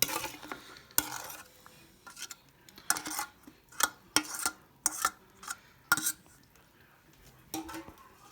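Pumpkin pie dough is mixed in a bowl with warmed pumpkin mass poured in. Irregular wet sloshing and scraping strokes come close and fairly quiet, with pauses of near silence between them.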